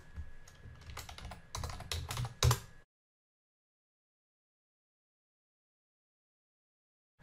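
Quick bursts of keystrokes on a computer keyboard clatter close up for a few seconds, ending in a firmer key press, then the room falls silent.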